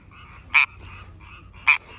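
A frog at a small neighborhood pond gives two loud, sharp croaks about a second apart, heard up close over quiet background sound.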